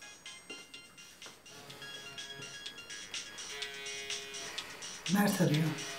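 An incoming call sounds on a mobile phone as a buzzing, tonal ring that repeats in short pulses, while people talk over it and a louder burst of sound closes it out.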